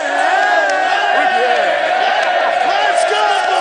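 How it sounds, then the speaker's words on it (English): A large crowd of football fans roars and cheers in a dense, steady wash of voices, with scattered whoops rising from the mass throughout. "But if we multiply this cheering fan by tens, let's go, Buffalo!"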